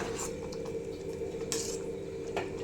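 A spoon stirs sweet jaggery pongal (chakkara pongali) in a pot, making soft scraping and a few metallic clinks against the pot over a constant low background hum.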